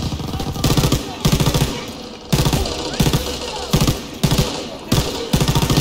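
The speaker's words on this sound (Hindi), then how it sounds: "यहाँ पे मशीन गन लेके बैठे हैं ये" Machine gun fire in Call of Duty: WWII, loud bursts of rapid automatic shots, each lasting about half a second, repeating roughly every second with short gaps between them, close and dominant with no talk over it.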